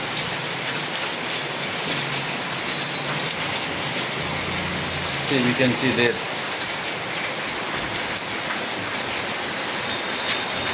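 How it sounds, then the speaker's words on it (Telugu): Heavy rain pours steadily as a dense, broad hiss, with a voice speaking briefly over it partway through. "ఫ్రెండ్స్ కనబడుతుందా వర్షం ఎంత పడుతుందా"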